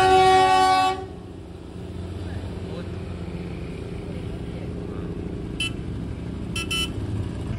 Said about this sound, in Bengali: এই ওপর থেকে টয় ট্রেন যাচ্ছে।